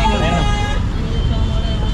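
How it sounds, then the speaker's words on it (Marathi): A vehicle horn blares on the road for about a second against dense traffic rumble, then gives way to continuous road noise. "अरे यार ये हॉर्न बंद करो"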